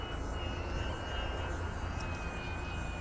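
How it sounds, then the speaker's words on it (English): Drones flying overhead near the Brooklyn Bridge in DUMBO, New York City, a thin steady whine of rotors above a constant city and traffic rumble. "There are drones flying, people, and you are not allowed to fly drones here"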